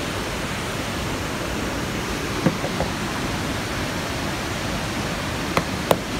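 Palovit waterfall on the Ayder plateau in the Kaçkar mountains, heard from right above the falls: a steady, dense roar of rushing water that fills the whole clip, with a few faint clicks and no voices.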